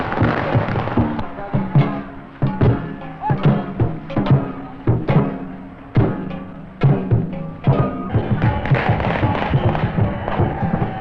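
Firecrackers burst in rapid, irregular volleys at a riotous Dragon Boat Festival in Macau, loud sharp cracks and thumps piling up continuously with crowd noise beneath.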